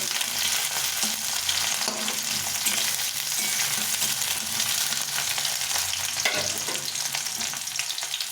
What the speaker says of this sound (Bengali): প্রথমে পেঁয়াজটাকে ভেজে নেব পেঁয়াজটা একটু হালকা করে ভেজে নেব